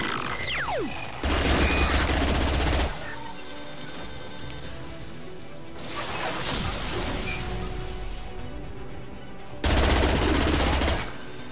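Gunfire rings out in the sci-fi shooter Mass Effect 2, with loud bursts of automatic fire alternating with quieter stretches of scattered shots, impacts and ambient battle noise.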